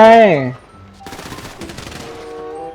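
Automatic gunfire in a GTA V zombie survival mode, rapid bursts of shots at close range following a short voice, with talk mixed in.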